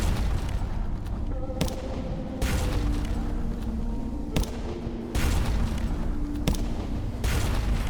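A ship's gun fires in the naval game Sunless Sea, with several heavy booming shots spaced a second or two apart over a low rumbling background drone.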